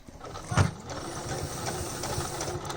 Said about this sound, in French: Donc je commence par coudre mes largeurs de 30 cm, celle du haut et celle du bas